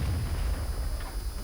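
Tank cannon shots from a World of Tanks E-25 tank destroyer, a dull, heavy low rumble of firing and impacts throughout, somewhat distant and muffled, with no talking.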